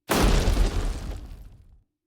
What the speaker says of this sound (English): And you hear a massive, earth-shaking explosion.